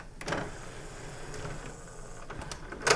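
A CD changer mechanism running its disc-checking routine, giving soft whirring and sliding motor sounds with a few sharp mechanical clicks, close by and quiet, with no talking.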